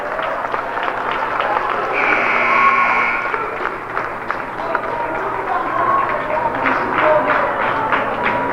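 A capacity crowd of fans packs a gym at a girls' high school basketball game, a steady roar of chatter and cheering with claps and running footfalls on the court, swelling briefly near the start.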